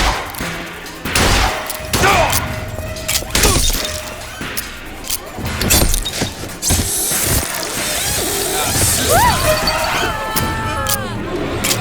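Gunfire volley in the Bioshock Infinite game on PS4, loud bursts and cracks with clattering mechanical impacts and shattering debris, close and dense, mixed with shouted voices and whistling swoops.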